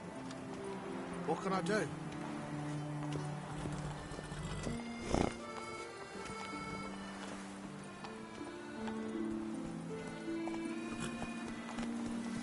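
Roach, a horse in a PS4 game, gallops with steady clip-clop hoofbeats and a loud whinny partway through, layered over music and someone talking throughout.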